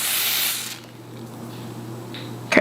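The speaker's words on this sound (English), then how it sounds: "So I'm just going to spray here." A can of adhesive spray gives off a steady hiss for just under a second as it is sprayed onto the lace of a curly blonde wig. Quiet room sounds and a short rustle follow.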